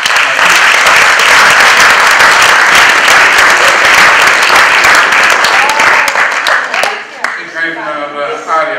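An audience at a film premiere applauds loudly and continuously, then the clapping thins out and a voice begins speaking over the last scattered claps.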